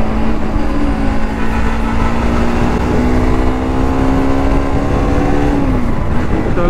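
Bajaj Pulsar AS200 motorcycle rides on a rough, broken road, its engine droning steadily close up with a rising whine as it speeds along, then easing off at the end.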